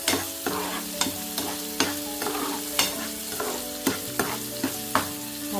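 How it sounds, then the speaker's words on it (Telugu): Onions frying in oil are stirred with a spoon in a pan, giving a steady sizzle broken by regular scraping strokes about once a second, close and clear with no talking. "అటు ఇటు కలిపేసుకుందాం."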